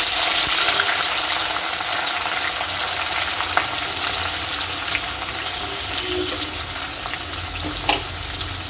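A loud, continuous sizzle of julienned onion and garlic frying in hot oil for a Punjabi dal tadka, a dense steady hiss close up with a few small pops.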